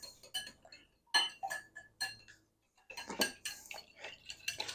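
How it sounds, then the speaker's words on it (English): Three eggs beaten in a bowl, a quick clinking of utensil against the bowl in short irregular bursts with a brief pause partway, close and fairly quiet, no talking. "in the bowl here, I got three eggs. I'm going to beat them up good."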